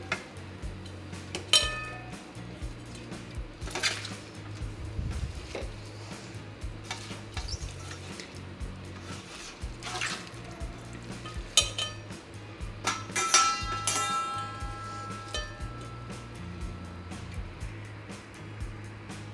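Gongura leaves and chopped tomatoes stirred together in a pan while making gongura chutney, with soft clinks and scrapes of a spoon against the cookware repeating at a moderate level and no one speaking.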